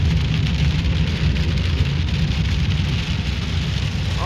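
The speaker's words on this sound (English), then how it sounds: "Probably hear the rain." Steady heavy rain drums on the roof and windows of a car caught in a thunderstorm on the drive home, a dense, continuous wash of loud patter with low rumbling underneath and no talking.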